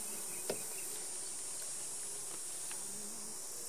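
Honeybees buzz around a row of beehives outdoors, giving a steady, fairly faint drone with a few brief louder passes of single bees and one short tap near the start.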